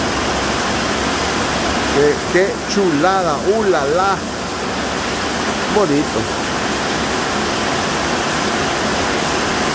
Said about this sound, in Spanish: Porque estamos disfrutando de esta linda lluvia que viene del cielo